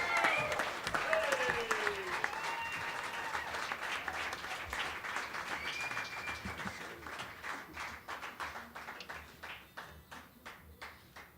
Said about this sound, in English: Give a big round of applause to Mr. Benny Galloway.